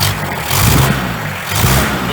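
The old diesel engine of a 1995 Hindustan Contessa runs close by with a loud, bassy, rough idle that swells slightly as if lightly revved.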